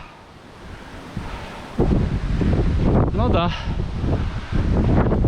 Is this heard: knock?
no